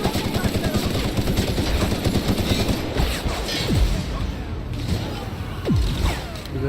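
Gunfire from the video game The Outer Worlds, rapid automatic bursts rattling near and loud in dense strings, with a few heavier hits and a voice briefly audible underneath.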